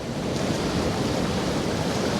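Ocean waves break into white water against coastal rocks, a steady loud broadband roar of surf with wind noise, continuous and close with no talking.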